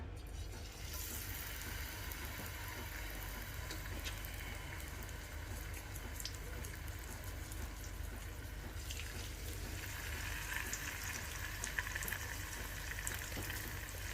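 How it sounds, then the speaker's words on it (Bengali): Pomfret fish sizzles in hot oil with a continuous, fairly quiet crackling fry that holds steady throughout, with a few brighter spatters toward the end. "একে একে মাছগুলোকে আমি এই তেলের মধ্যে গরম তেলে ছেড়ে দিব।"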